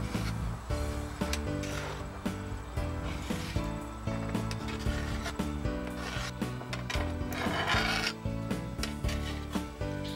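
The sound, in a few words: spatula scraping food in a pan over the heat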